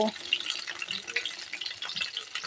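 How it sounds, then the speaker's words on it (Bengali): Potatoes fry in a pan with a close, busy crackling sizzle full of small pops that rises and falls throughout, with a faint voice in the background. "এইদিকে আমি এই দেখো আলু ভাজা বসিয়ে দিয়েছি"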